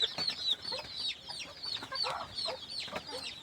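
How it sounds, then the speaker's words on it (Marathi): A black hen brooding on a clutch of eggs gives soft, repeated clucks and murmurs near at hand, with other village chickens calling faintly around her; no talk. "ही एक कोंबडी आहे बघा, काळ्या रंगाची आहे"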